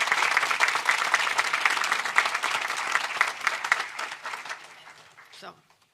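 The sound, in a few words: applause for the legislators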